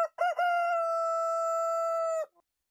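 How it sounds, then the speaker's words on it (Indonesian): A rooster crows once, loud and close, a drawn-out cock-a-doodle-doo with a rising start and a long steady held note before it cuts off, alone with no other sound. "berkokoklah ayam."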